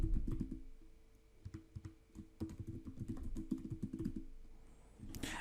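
A password is typed on a computer keyboard, quiet close-up key clicks in irregular bursts with a short pause before a final flurry of presses.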